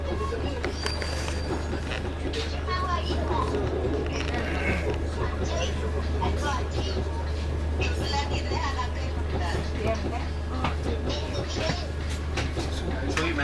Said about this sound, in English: This is the Mandovi Express, or also called as Food King or Food Express.